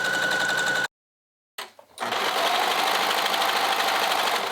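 Sewing machine stitching around the raw fabric edge of a doll pattern, a loud close rapid whir that stops for a moment, restarts with a stutter and then runs steadily.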